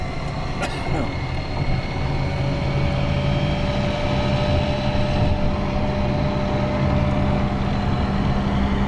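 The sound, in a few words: road noise inside moving truck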